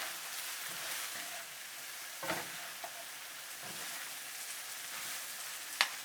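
Spring onion stir-frying in a tablespoon of sesame oil for yakisoba, a steady soft sizzle that runs throughout, broken by a few brief scrapes and clicks from the stirring utensil.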